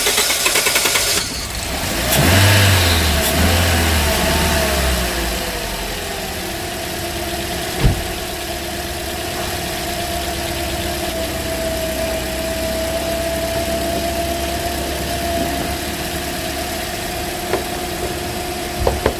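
A car engine cranks and catches after new spark plugs are fitted, then settles into a steady, even idle with a low hum for a long stretch, close by, with no talking.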